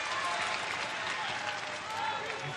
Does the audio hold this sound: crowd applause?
yes